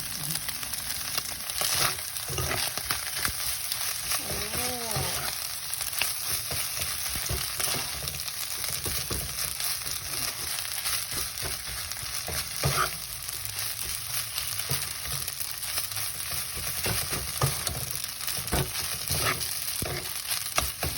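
Fried rice being stir-fried in a pan, a steady low sizzle with scattered scrapes and clinks of a utensil running throughout, with no one talking.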